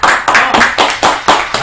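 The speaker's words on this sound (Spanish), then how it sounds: "los aplausos para él" At a rock night show, a crowd claps together in a loud, steady rhythm. The beats are close and strong, about three per second.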